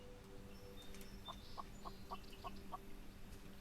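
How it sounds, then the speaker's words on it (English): Chicken clucking in the video game SolarPunk: a series of about six short, evenly spaced clucks over a steady hum of game ambience and background music, moderately quiet. "Oh yeah, I hear the chicken."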